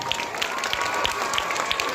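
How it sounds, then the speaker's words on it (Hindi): Dense applause from an audience at a school prize distribution, steady clapping filling the whole stretch at moderate loudness, with no voices over it. "और इनाम के दौर में देवांशु कुमार के लिए भी जोरदार तालियां।"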